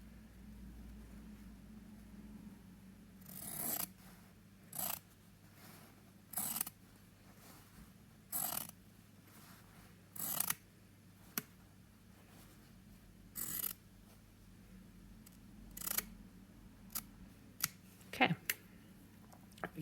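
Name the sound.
scissors cutting fabric strips with a bias gauge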